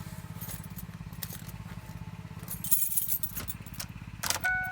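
Car keys for a 2004 Ford Explorer jangle and clink close up in several bursts over a steady low rhythmic engine-like hum.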